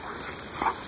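A dog plays off-leash, giving a short close whimpering yip over a soft outdoor background in a single quick burst.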